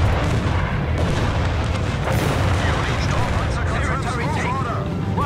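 Company of Heroes 3 battle with cannon and artillery fire: a dense, loud, continuous roar of booms and blasts layered over one another throughout, with game voices talking over the din.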